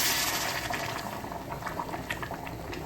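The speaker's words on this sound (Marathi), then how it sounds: "चार वाटी गरम पाणी घालते आहे" Hot water pours onto rice in a pot for a pea pulao, a close, rushing splash that starts loud and settles into a steady bubbling flow.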